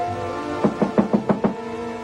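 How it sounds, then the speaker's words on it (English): Six sharp knocks on a door come in quick, even succession over a steady background of music, in a 1947 film. "Is someone knocking?"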